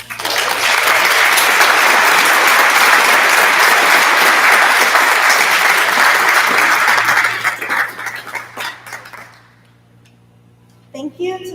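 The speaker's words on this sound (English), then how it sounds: "Let's give them a round of applause." Graduation audience applauding the teachers at a Lincoln Prep ceremony, a loud sustained wash of clapping that thins into scattered claps and fades to near quiet, with a few voices near the end.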